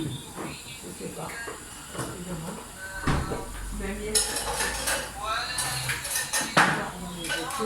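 Pots, lids and dishes clatter in a home kitchen, with repeated metallic clanks and scrapes and a cutlery jingle, some near and loud, mixed with people talking.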